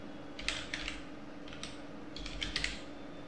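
Keys on a computer keyboard are tapped in two short clusters of quick clicks, close and moderately quiet over a steady low hum, with a gap between bursts.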